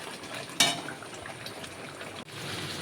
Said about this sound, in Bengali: এবার মটনটা এর ভিতরে দিয়ে দেব, দিয়ে আধা ঘন্টা ভালো করে একটু কষিয়ে নেব।